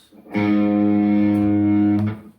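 Heavily distorted electric guitar holds one thick, buzzing sustained tone for about two seconds, loud and unaccompanied, then cuts off.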